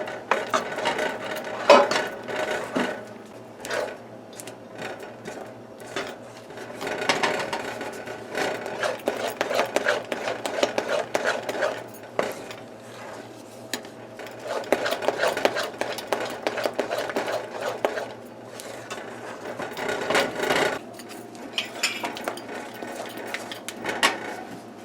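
Thick fudge mixture is stirred steadily off the heat, giving a continuous scraping, rubbing texture with periodic louder strokes over about twenty-five seconds and no talking.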